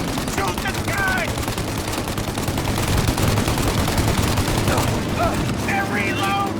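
Sustained, close gunfire from Mafia Definitive Edition (2020): rapid overlapping shots and bursts crackle almost nonstop, while shouting voices cut in at the start and near the end.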